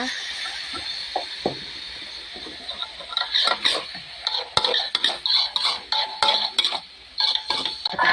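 A spatula or spoon scrapes and clanks against a pan while ingredients are stir-fried and mixed, irregular metallic knocks coming faster and denser after the first few seconds, with no voices.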